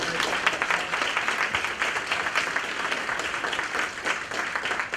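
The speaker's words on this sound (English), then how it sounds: "Let's have a round of applause for this." A crowd at an executive briefing applauds steadily, a dense wash of many hands clapping at once, sustained throughout without pause.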